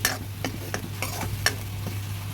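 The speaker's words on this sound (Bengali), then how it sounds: "সব কিছু ভালোভাবে নেড়ে নিচ্ছি।" Onion paste stirred into a hot pan for Bengali rui fish curry with data and potatoes, a spoon scraping in a steady rhythm of soft strokes over a faint sizzle under a constant low hum, with no talk.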